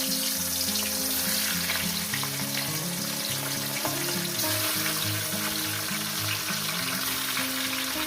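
Rohu fish heads sizzle in hot oil with a loud, dense, continuous frying hiss and crackle, close up and unbroken, no one talking over it.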